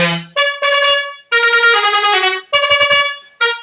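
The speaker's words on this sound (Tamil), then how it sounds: "அதனால் ஹாரன் எல்லாத்தையுமே நம்ம அடித்து காமிச்சிடலாம்." Horns on a KGK Garudan coach minivan sound in a series of loud, close musical blasts of varying length, separated by short gaps, with no talking.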